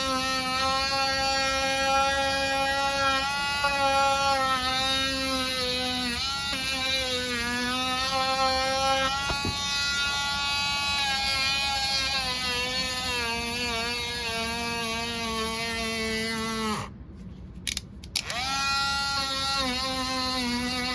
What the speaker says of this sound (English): I'm gonna take a rotary tool with just a little bit of sandpaper on it. I'm just gonna sand the edges of this real quick.